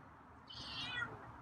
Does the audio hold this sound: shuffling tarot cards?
no